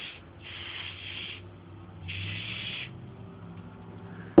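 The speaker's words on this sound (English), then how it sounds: "I'm just simply going to spray it all over the back here." Two soft hissing bursts of an aerosol spray product sprayed over the back of an RC truck, each lasting under a second, fairly quiet and close, followed by a sharp click at the end.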